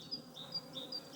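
Honey bees buzz faintly around an apiary in Ireland in spring, a thin steady drone with individual insects passing close in quick succession.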